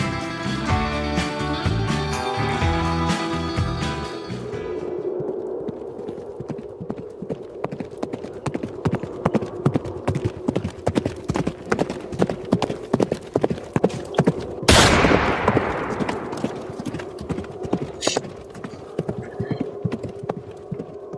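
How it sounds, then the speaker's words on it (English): Duke the horse galloping with rapid, rhythmic hoofbeats over a long stretch, briefly overlapping music at the start, with a sharp burst midway and a whinny among the steady clip-clop. "I hope you all heard Duke galloping in there."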